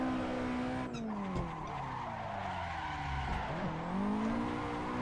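A Nissan 180SX drifts on the Nürburgring, its rear tires squealing in long sliding wails over a droning engine whose pitch dips and climbs, loud and close throughout.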